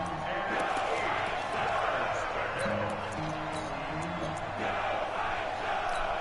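A stadium crowd in a football video game roars steadily ahead of a big third down, a broad wash of cheering under commentary.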